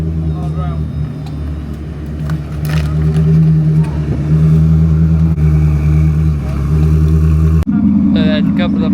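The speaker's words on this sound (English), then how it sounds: "That Aperta, that LaFerrari Aperta was loud." Hypercars pull away from a large car meet as a LaFerrari Aperta's engine revs loudly, a continuous roar that swells and rises over several seconds, with people talking close by throughout.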